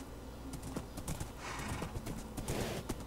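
A horse in the video game Minecraft, with steady clip-clop hoofbeats and an occasional whinny, close and fairly loud, with no talk over it.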